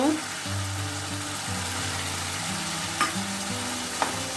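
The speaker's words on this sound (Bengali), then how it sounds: "এই যে মশলাটা ভাজা ভাজা হচ্ছে আর একটু হবে এই যে তেলটা ছেড়ে দিয়েছে" Spice paste frying in oil in a pan for a Bengali chital fish kalia, a steady close sizzle with low background hum and a couple of brief spoon clinks against the pan.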